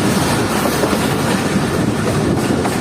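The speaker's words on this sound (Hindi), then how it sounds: "चौरा शरीफ रेलवे स्टेशन पर पहुंच रही है हमारी ट्रेन।" Passenger train on the Jand–Attock line pulling into Chaura Sharif halt station, a steady loud rumble of rolling carriages with rhythmic wheel clatter throughout, no voices.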